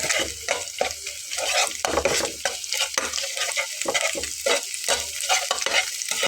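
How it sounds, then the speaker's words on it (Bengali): Egg is stirred and fried with pointed gourd in a pan: rhythmic scraping stirs repeat over a constant close sizzle, with no talk. "আর এবার নেড়ে চেড়ে ডিমটাকে একটু ঝুড়ো করে ভেজে নেব।"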